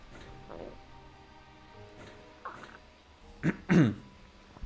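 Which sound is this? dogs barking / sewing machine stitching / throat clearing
throat clearing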